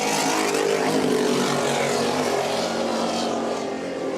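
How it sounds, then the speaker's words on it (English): An offshore racing powerboat with side exhaust roars past at full throttle during a Class 1 race, a loud, steady, rumbling engine drone with a harsh buzzing edge that swells and holds without any talk. "That side exhaust, Peter Meyer, just like that Instigator boat"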